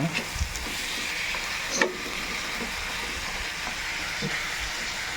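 Meat sautéing in a pan with garlic and onion gives off a steady sizzling hiss throughout, broken by a brief clatter near the start.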